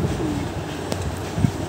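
A split-tailed pigeon coos softly at close range over faint background noise, a couple of low throaty calls with no speech.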